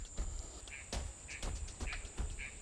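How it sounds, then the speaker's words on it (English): Frogs call in the background of a wild American snake habitat, short chirping calls repeating about every half second, fairly faint and alone over a low hum. "I can hear that noise in the background. That's one of his favourite foods. Frogs."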